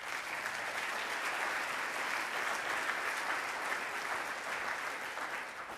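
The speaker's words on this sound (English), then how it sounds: "Please give all of them a round of applause." A conference audience applauds sponsors with sustained, even clapping that holds steady from start to finish, dense and moderately loud, with no speech over it.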